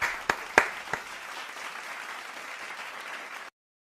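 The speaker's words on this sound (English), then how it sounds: "Let me get your applause." A studio audience claps and applauds for several seconds, with a few sharp individual claps at the start before a steady wash of applause that cuts off abruptly.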